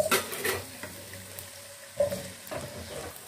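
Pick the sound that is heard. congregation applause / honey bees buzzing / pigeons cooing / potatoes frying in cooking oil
potatoes frying in cooking oil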